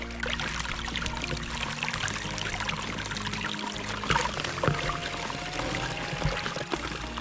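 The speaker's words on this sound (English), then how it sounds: "The water flow isn't perfect." Water rushing through a gold prospecting sluice box outdoors, a steady, close gushing and splashing flow with small rippling surges, continuous and without talk.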